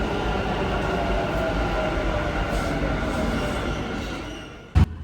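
A train moving through a crowded interchange station in India, a steady loud rumble of rolling cars close by, ending with a sudden sharp knock.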